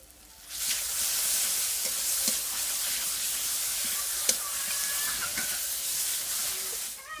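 Ground dried chili paste, sugar and spices frying for village-style Patnai chicken, a loud steady sizzle that flares up after a quiet start and holds continuously, with occasional stirring clinks and no talking.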